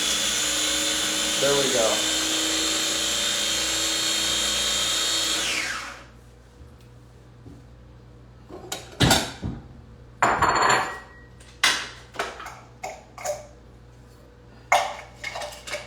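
A food processor whirs loudly and steadily for about six seconds, then winds down; sharp plastic clicks and clacks follow as parts are fitted together, with brief speech in between.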